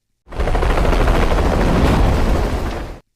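A loud, steady roar of a helicopter approaching in the film The Condemned (2007) fills the whole stretch, dense and rumbling, with no voices over it.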